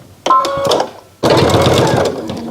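A new sewing machine running in two loud bursts while stitching down a fabric face mask, a short run, a brief pause, then a longer buzzing run close by.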